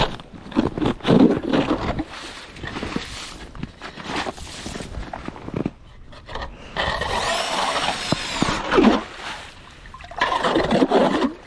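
Cordless 18-volt drill with a 5 Ah battery driving a 180 mm ice auger into lake ice, a steady grinding, scraping churn that rises and falls in loud bursts with brief pauses, heard close by.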